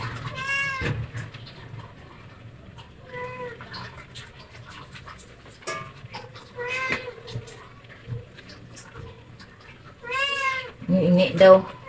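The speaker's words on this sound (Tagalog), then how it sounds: "Sabi ng aking pusa na isa, ingi, ingi." A cat meows several times in short, rising cries with pauses between them, fairly close and clear against a quiet indoor background.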